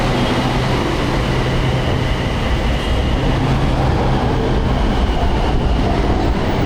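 A Bangkok commuter train gives a loud, continuous low rumble with broadband rolling noise that holds steady throughout, heard up close as if from on board or beside the tracks.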